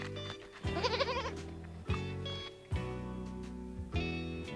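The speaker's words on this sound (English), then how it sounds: "Perhaps goats weren't such a good idea after all." A goat bleats loudly in a wavering cry, followed by a few shorter calls against a humming background.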